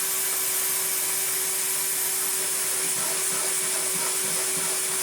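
A Numatic Henry Turbo HVR200T-2 vacuum cleaner runs steadily with a loud, constant motor drone and airy whine, no one speaking.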